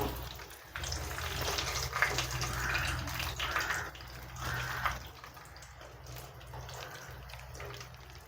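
Egg puffs made with samosa sheets fry in oil with a faint, steady crackle and bubbling sizzle that holds evenly throughout, with no speech over it.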